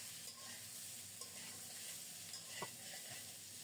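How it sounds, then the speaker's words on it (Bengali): Boiled, cut potatoes frying in a cumin tempering over medium heat, a steady broadband sizzle with occasional scrapes and clinks of a spatula stirring them in the pan, no voices. "আলুগুলোকে লাল লাল করে ভেজে নেব"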